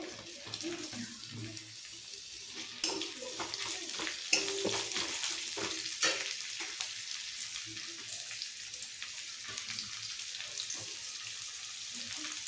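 Mutton frying in a pan with ginger, garlic, bay leaf and onion gives a steady hiss and crackle that runs throughout, with occasional stirring scrapes and clinks. Some faint noise sounds like running water.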